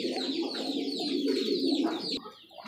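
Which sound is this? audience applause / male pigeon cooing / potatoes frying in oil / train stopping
male pigeon cooing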